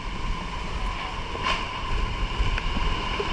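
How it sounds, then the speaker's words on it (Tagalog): Strong typhoon wind roaring and buffeting the microphone in a steady low rumble, loud and constant with a few gusty surges. "Grabe ng lakas ng hangin dito."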